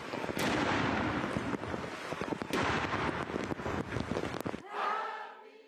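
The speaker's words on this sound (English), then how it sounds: "A ceremonial 41-gun salute honours Britain's King Charles III on his 75th birthday." Ceremonial 41-gun artillery salute for King Charles III's 75th birthday in Britain, heavy repeated booms over crowd noise, then cutting to quieter ambience at the end.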